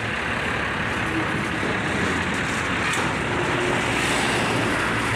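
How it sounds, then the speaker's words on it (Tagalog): A delivery truck rumbles at a Yamaha motorcycle dealership in Bacoor, heard as a continuous broadband engine and road noise, steady and moderately loud, with no distinct speech. "Isang truck ang dumating na delivery dito."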